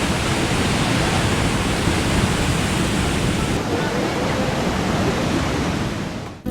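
Steady broadband roar of ocean waves on the Puerto Rico coast, loud and continuous for several seconds, with crashing surf washing together and cutting off abruptly at the end.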